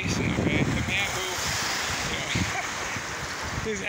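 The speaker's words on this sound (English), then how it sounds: "wow, it's really windy" Strong wind roars and buffets the microphone continuously, a dense rushing noise throughout with faint voices partly buried underneath.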